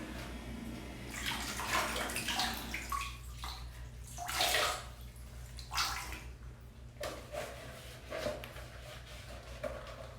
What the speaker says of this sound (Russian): Смоем.